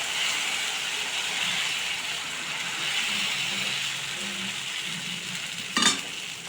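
Urad dal dosa batter sizzling on a hot pan, a steady, fairly loud hiss that runs unbroken throughout, with one brief clatter near the end.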